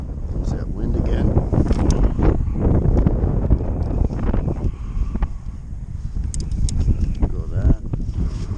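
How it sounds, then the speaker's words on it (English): Steady wind buffets the microphone near Spirit Bay, a continuous loud rumble with gusty swells, heard alongside occasional voices. "There's that wind again."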